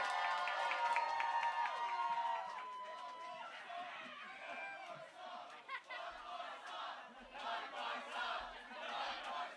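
At a live hip hop show on the Coke stage, a crowd cheers and applauds loudly, with shouts and whoops that ease into scattered clapping and chatter.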